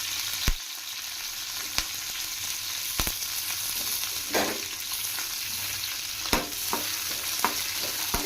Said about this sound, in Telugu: ఈ పచ్చిమిర్చి కూడా దోరగా ఫ్రై చేసుకోవాలా